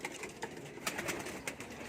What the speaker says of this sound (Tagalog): Dito sa taas, kalapatids.